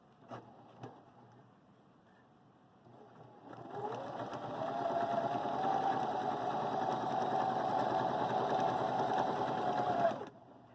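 A Viking Emerald 118 sewing machine runs steadily with a close mechanical whir for about six seconds before stopping abruptly, preceded by a few soft clicks and quiet handling.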